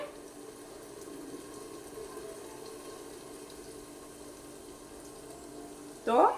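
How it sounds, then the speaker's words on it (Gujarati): Water runs and splashes steadily into a pot of cooking aubergine and potato curry, a soft continuous pouring sound, ending with a brief louder clatter. "પાણી થોડું નાખી દેવાનું છે"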